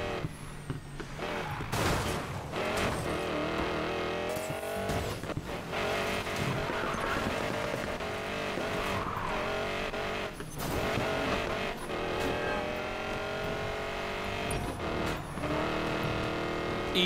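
Car engines in Need for Speed Payback: revving, roaring motors with rising and falling pitch fill the whole stretch, with occasional sharp bursts and faint tire noise, loud and close.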